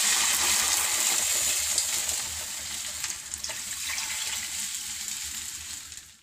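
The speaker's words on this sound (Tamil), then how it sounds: "இப்போ நம்ம இந்த கரைச்சி வச்ச புளியை இதில் ஊற்றிக்கலாம்." Tamarind water poured into a hot pot of ground chili, turmeric, salt and asafoetida for Tirunelveli vellai kulambu, giving a loud, continuous hiss and sizzle with liquid splashing that slowly fades over several seconds, with no voices.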